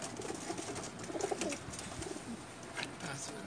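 Pigeons coo softly among a loft of mixed-breed birds, with low, throaty coos repeating over a busy background of faint rustling and distant noise.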